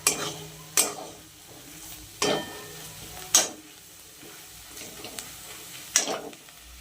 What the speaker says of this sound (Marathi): चटणी व्यवस्थित तेलात भाजून घ्यायची